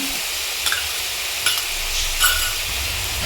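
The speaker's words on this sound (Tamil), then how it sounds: "இஞ்சி பூண்டு பேஸ்ட்டு சேர்த்து நல்லா வதக்கிக்கலாம்." Onions sautéing with ginger garlic paste in a hot pan, a continuous dense sizzle with a few soft stirring scrapes over it.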